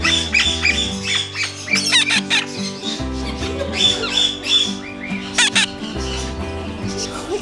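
Newly acquired pet bird squawks in loud, close bursts, with several harsh calls over a background of household noise and a little talk.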